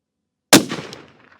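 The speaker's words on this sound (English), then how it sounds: "next up, we're going to be shooting the Federal Fusion tipped" A single sharp rifle shot from a CVA Cascade XT in .308 Win firing Federal Fusion tipped 180 grain bullets, a loud close crack followed by a decaying echo tail.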